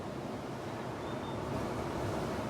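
Ocean waves break and wash along the shore at sunrise in a steady, broadband roar, with a continuous rush of surf and some wind noise on the microphone, heard alone.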